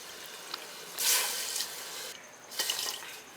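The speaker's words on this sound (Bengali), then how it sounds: "দু বাটি চিনি দিয়ে দেবো আর এটা দেড় বাটি জল দেবো" Water poured from a bowl onto sugar in a pan to make syrup for Bengali langcha, a short pouring splash with a couple of brief gushes, close and fairly quiet, no voices.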